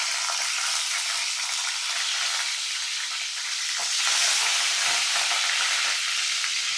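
Whole eggplants for masala gutti vankaya sizzle steadily in hot oil, a dense, continuous frying hiss that swells slightly louder partway through, with no voices over it.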